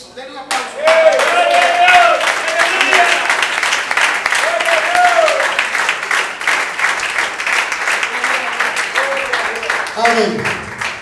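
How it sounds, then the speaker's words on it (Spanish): A church congregation breaks into loud, sustained clapping that carries on for about ten seconds, with scattered voices calling out underneath the applause. "Denle un aplauso"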